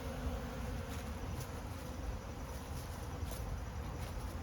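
Many honey bees buzz in a dense, continuous drone close by on the ground around spilled honey, with a few individual bees passing louder now and then.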